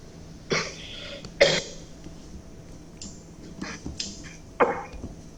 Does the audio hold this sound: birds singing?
no